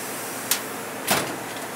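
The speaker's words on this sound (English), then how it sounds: "I'll close the door." Door being closed indoors near a mobile robot, a short click followed by a louder soft thud about half a second later.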